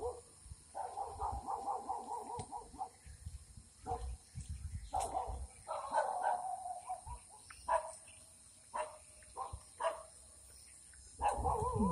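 Several dogs bark in bursts at a forest spot, some barks drawn out and others short yips, at moderate distance with uneven gaps and a steady hum behind them.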